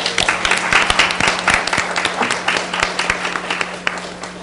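A conference forum audience applauds their chairperson: dense, loud clapping from many hands, close and continuous for several seconds with no talk over it.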